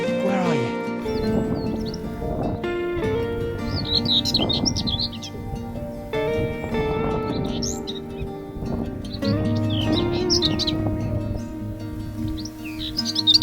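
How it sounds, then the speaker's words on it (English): A whitethroat sings loudly in short scratchy phrases repeated every few seconds on windy Welsh clifftops near Skomer, over steady wind and background noise, with voices talking. "I've got to get this whitethroat. It's singing so loud."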